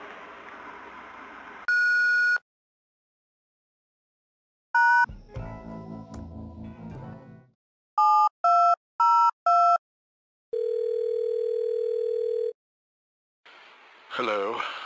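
Telephone tones and a voicemail beep from the video game Thimbleweed Park: short electronic ring bursts, a series of four quick pulsed tones and a long steady beep, with spoken voice between them.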